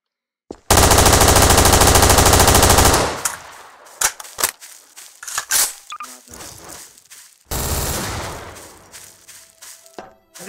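Gunfire in the video game Garry's Mod: a loud, sustained automatic burst lasting over two seconds, then scattered single shots and thuds, followed by another long burst, all close and with no talking.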